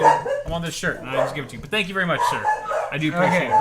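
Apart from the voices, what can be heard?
dogs barking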